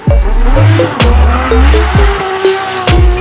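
A car engine runs close by, loud and steady, with a few sharp revving swells and a tire-squeal-like whine rising and falling over it.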